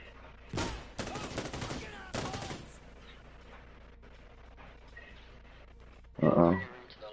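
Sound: gunfire in a video game

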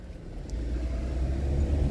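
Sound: car driving through a neighborhood, heard from inside

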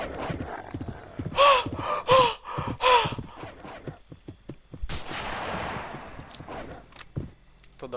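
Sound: gunshots in the video game Westbound

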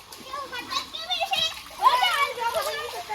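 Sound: water splashing as children bathe

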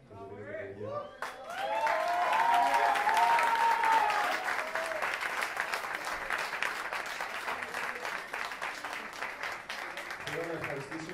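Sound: audience applauding a performer at a live festival

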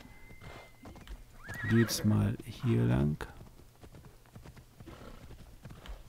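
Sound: horse hooves from a video game

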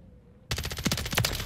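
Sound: HRM-9 gun firing with attachments in video game

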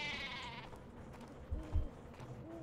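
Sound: sheep bleating in Worms: Clan Wars video game

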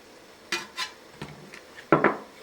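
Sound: stirring ground black pepper into minced meat mixture

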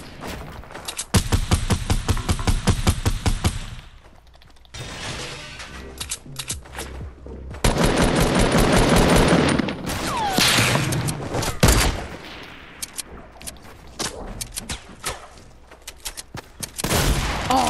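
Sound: gunfire in the video game Fortnite

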